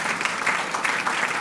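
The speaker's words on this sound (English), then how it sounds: "let's give her a round of applause" An audience at an honorary degree dinner gives a steady round of applause, dense clapping sustained evenly throughout, fairly distant and uninterrupted.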